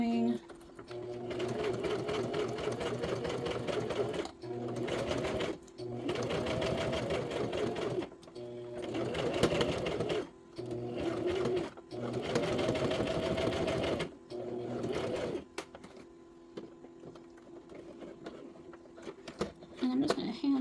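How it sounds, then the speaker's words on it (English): A sewing machine stitching fabric for a purse pal shaker project runs in steady loud bursts of rapid mechanical whirring, stopping and restarting several times with brief pauses between runs. "I'm just going to pull and just hold my threads and just keep sewing."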